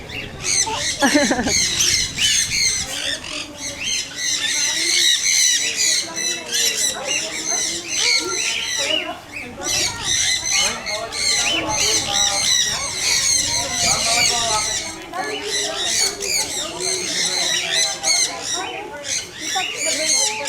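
A dense flock of birds squawks loudly and continuously at Ocean Park, with overlapping harsh calls close by and voices talking underneath throughout.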